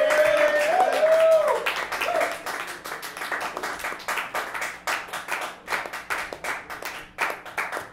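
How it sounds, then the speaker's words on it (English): Audience applause and clapping for musicians at a jam session, steady and fairly loud, with a brief tonal note in the opening moments before the clapping continues alone. "please give these guys a round of applause"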